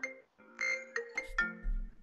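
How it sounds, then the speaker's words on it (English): A phone ringtone sounds for an incoming call, a short bright electronic melody of several tones played close and clear with no voices. "unfortunately, that's a phone call"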